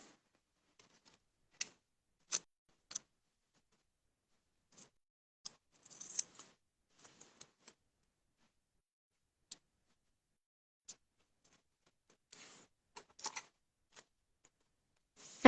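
Scissors snip through paper for a bullet journal, a scattered run of short, crisp ticking cuts with quiet gaps between them, close and fairly soft, with no talking.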